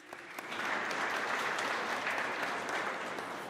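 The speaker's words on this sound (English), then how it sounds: "Could you please give them a round of applause?" Steady, dense applause from a conference audience at a human rights event for women and girls with disabilities, continuous and fairly loud through the whole stretch, with no talking.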